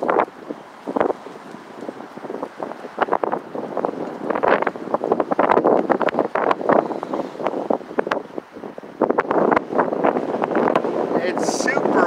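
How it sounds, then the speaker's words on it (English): Strong outdoor wind buffeting the microphone in uneven gusts and rumbles, loud and close, with a person talking through much of it. "it's super windy out here."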